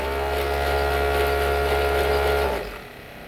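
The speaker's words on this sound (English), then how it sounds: "And we'll get it up into full throttle here." Remote control German Type 214 submarine's electric motor spinning a brass propeller at full throttle, a loud steady high whine with strong harmonics that cuts off and winds down near the end.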